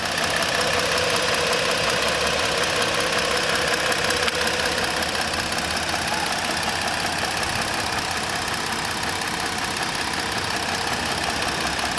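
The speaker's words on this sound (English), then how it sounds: "Engine is nice and quiet." A 2016 Ford Explorer Police Interceptor with a 3.7 all-wheel-drive engine idles steadily and evenly, close up and continuous with a faint ticking texture and no voices.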